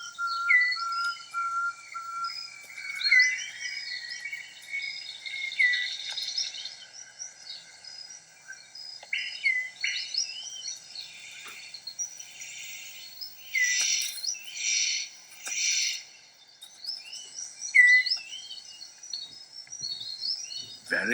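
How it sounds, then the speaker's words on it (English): A superb bird of paradise calls in the wild, a long run of thin, high whistles and rapid chirping phrases repeating clearly over about twenty seconds, with no talk. "The superb bird of paradise calls to attract a female."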